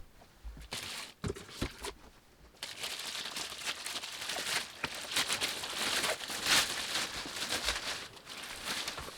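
A plastic bag crinkles and rustles as a Yamaha SLG200N nylon-string silent guitar is pulled out of it. The sound is sparse and faint at first, then grows into a dense, steady crackling close to the listener.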